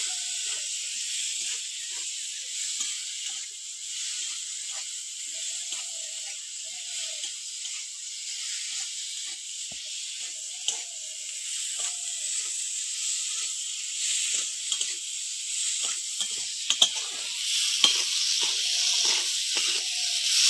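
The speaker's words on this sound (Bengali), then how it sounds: "গুঁড়ো লঙ্কা। এবার এটা ভালো করে একটু কষে নেবো।" Spices with chili powder fry for a Bengali egg curry, a steady high hiss of sizzling oil with faint, occasional light stirring ticks, close and unbroken by talk.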